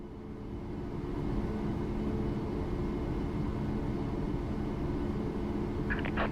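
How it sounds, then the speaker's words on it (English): Boeing 737 Max 8 engines in Microsoft Flight Simulator 2024 drone with a steady low roar and faint whine, heard from inside the plane, with a few brief clicks near the end. "These engine sounds are awesome in this plane."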